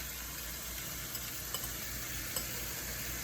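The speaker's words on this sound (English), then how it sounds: "I'm going to add my codfish now." Codfish goes into a pan of garlic and tomatoes, setting off a steady, moderately quiet sizzle with light stirring and a few soft utensil taps, and no talking.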